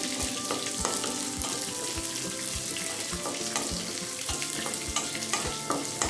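Shallots sautéing with green chillies in a pan for onion mint chutney, a continuous close sizzle and crackle punctuated by regular spoon-on-pan taps as the mixture is stirred, no voices.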